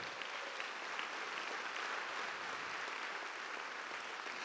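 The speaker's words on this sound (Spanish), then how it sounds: "Denle un aplauso al Señor." A church congregation claps together in steady, dense applause, a continuous even wash of many hands heard from within the room, with no voices above it.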